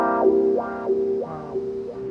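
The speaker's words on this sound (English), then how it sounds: "I have a Vox wah-wah pedal" Clavinet notes swept by a Vox wah-wah pedal, the tone rising and falling in a slow repeating wow roughly every half second, close and loud.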